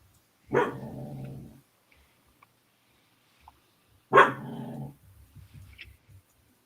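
A dog barks in two short, loud bursts several seconds apart, each trailing into a low growl, with quiet rustling between them.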